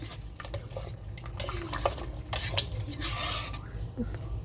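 Chorba soup cooking in a pot while being stirred, with soft intermittent scraping and clinks of a utensil against the pot over a steady low simmer, close and fairly quiet.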